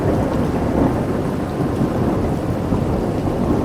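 A heavy thunderstorm in darkness over a valley: steady, loud, dense rain with deep rolling thunder, filling the whole stretch without a break and with no voices.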